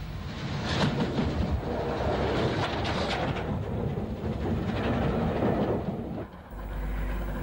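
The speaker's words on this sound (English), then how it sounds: "A Standard Class 5 heads a long train near Woking" A BR Standard Class 5 steam locomotive hauling a long train near Woking, a continuous rumbling roar with rhythmic clatter of wheels passing close by, fading briefly near the end.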